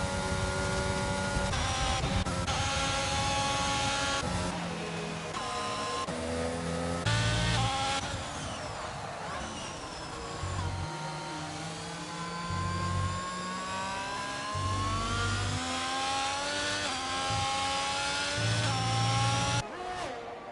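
F1 22 racing game cars at Great Britain screaming down the straight, high-revving engine whine rising and shifting through gears, steady and loud with little else around.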